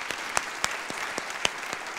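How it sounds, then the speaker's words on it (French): A business startup launch audience applauds speaker Christophe Dumoulin with scattered, fairly quiet clapping, a few sharper individual claps standing out from the softer patter. "Je pense qu'on peut l'applaudir."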